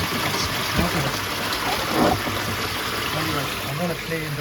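Water trickles and splashes steadily into a pond drum filter screen, a continuous close wet babble with someone speaking over it.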